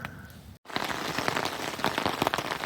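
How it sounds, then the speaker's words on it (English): Heavy rain drums on a camp tarp over a campfire on a rainy backpacking trip along the Elk River Hiking Trail, a dense, steady patter heard up close after a brief drop near the start. "the rain has finally hit properly"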